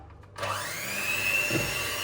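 An electric blender mixes cake batter with flour for an apple pie. The motor whirs up abruptly and holds a steady, close whine.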